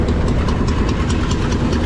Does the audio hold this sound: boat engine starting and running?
yes